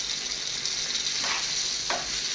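Diced tomatoes hitting a hot pot of simmering sauce for pasta, giving a steady moderate sizzle and frying hiss with a couple of soft stirring scrapes, close by and without any talk.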